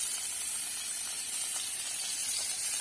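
Eggplant pieces frying in hot oil make a steady, even sizzling hiss that runs close and unbroken with no voices.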